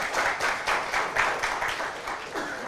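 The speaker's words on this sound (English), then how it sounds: "Can we give a big applause?" An audience at a session claps steadily for a few seconds, a dense, even burst of applause with no talk over it.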